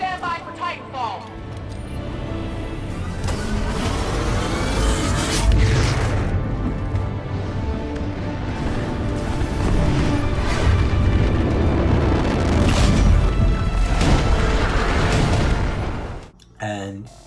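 A Titan drops from orbit and lands in the video game Titanfall 2: a loud, sustained roaring rumble with heavy booms throughout, building in intensity before it cuts off abruptly at the end.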